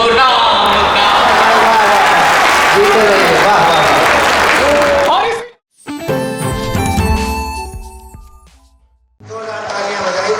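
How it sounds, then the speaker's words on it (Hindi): A large crowd at a night-long Hindi poetry recital bursts into loud, dense applause that lasts about five seconds before cutting abruptly to other sounds. "तालियां बजाई जाए"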